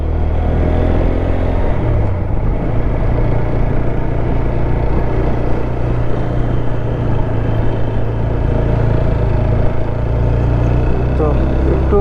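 A motorcycle engine rumbles steadily up and down a hilly mountain road on the way from Sukna to Darjeeling, with wind and road noise throughout and a rider talking over it.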